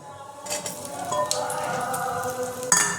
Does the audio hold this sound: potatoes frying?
yes